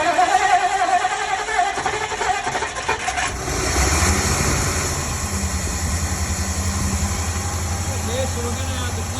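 A Ford Thunderbird engine cranks and fires, then settles into a rough, steady idle close to the microphone, with people talking over it.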